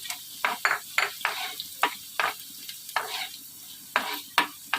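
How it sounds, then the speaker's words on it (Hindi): Cumin seeds go into ginger frying in a pan, giving a rhythmic series of sizzling, scraping bursts as the mix is stirred, close and fairly loud, with no talking. "अब इसमें मैं थोड़ा सा जीरा शामिल कर देती हूँ।"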